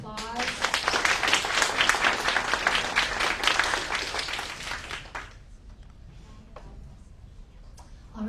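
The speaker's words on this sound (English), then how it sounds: "We can give them a round of applause." An audience applauds panelists at an AAPI climate justice townhall, a dense, steady burst of clapping for about five seconds that then fades into scattered claps and room noise.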